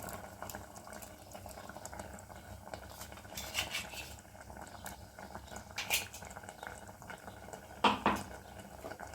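A spoon stirs okra masala curry in a pan, with soft metallic scrapes and clinks against the pan over a quiet simmer, a few louder taps standing out.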